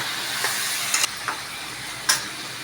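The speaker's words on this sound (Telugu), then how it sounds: "ఇట్లా ముక్కలు వేయించుకోవాలి" Tomato pieces frying in a pan for chutney give off a steady hiss of sizzling, broken by a few quick scrapes and stirring clatters, close by with no talking.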